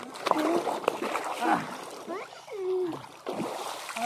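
Splashing water while people bathe in a canal, with scattered slaps and sloshes beneath near, continuous talking voices throughout.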